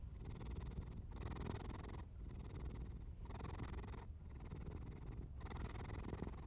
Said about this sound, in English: As the purring continues, you might begin to notice small details in its sound.